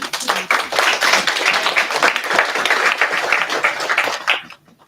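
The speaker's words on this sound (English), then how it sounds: "Y'all should applaud for that." Steady crowd applause, dense and continuous clapping for several seconds before it quickly dies away at the end.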